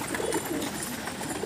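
Pigeons coo while taking turns eating grain, soft low throaty calls repeating over a dense background of rustling and movement, close by, with no talking.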